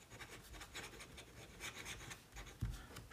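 A fountain pen with a rather hard nib writes on paper in a quiet, close scratching that comes in short strokes, with one louder tap near the end.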